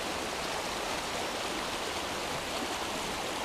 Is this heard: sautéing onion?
no